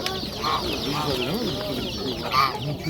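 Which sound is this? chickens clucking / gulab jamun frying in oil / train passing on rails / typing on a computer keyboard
chickens clucking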